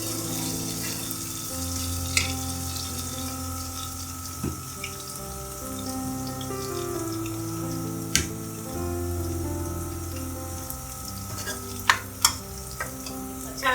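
Onions and mash (urad) lentils fry and brown in a pan with a continuous, even sizzle. Occasional sharp clinks and scrapes of stirring break through at irregular intervals.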